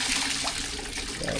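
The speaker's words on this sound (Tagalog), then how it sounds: "Malakas ng tubig na ito eh." Strong rush of water pouring steadily from an outdoor pipe or pump outlet that runs even in summer, a continuous broadband splashing flow close by, with no voices over it.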